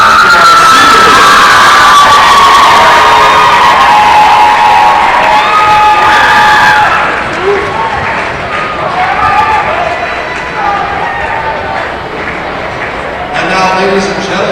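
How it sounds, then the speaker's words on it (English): A high school boys basketball crowd cheers and applauds the seniors in a gym, loud whooping and shouting that thins after a few seconds into a scattered crowd murmur before swelling again at the end. "Give it one last final round of applause to our seniors."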